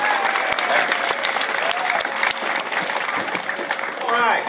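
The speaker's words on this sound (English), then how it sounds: "So let's give her a big round of applause." Audience of Peter Pan actors giving a sustained round of applause, dense continuous clapping with some cheering and voices mixed in near the end.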